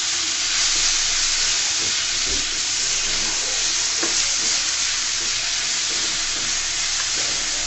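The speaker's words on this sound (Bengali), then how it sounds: "চিকেনগুলোকে আমি হালকা তেলের মধ্যে লবণ দিয়ে ভেজে নিব।" Chicken frying in a little oil with salt and ginger-garlic paste, a loud, dense, steady sizzle and hiss that fills the whole stretch, with a few faint scrapes and knocks underneath.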